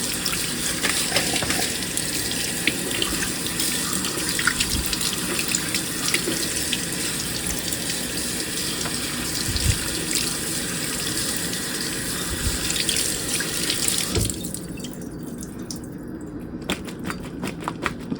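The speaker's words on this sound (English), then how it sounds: "now I'm going to rinse them really well to get that salt off" A tap runs steadily over cucumbers in a colander as they are rinsed, the water splashing continuously, then the flow changes and thins near the end.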